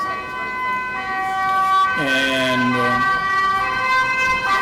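An ambulance siren sample plays within a live coding performance, a steady wailing tone that holds throughout and swoops sharply near the middle, with a brief spoken word heard under it.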